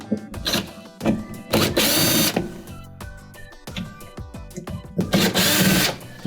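Powered screwdriver whirring in repeated bursts while removing Phillips screws from the door panel of a leaking Kenmore dishwasher, with short pauses between loud runs of the motor.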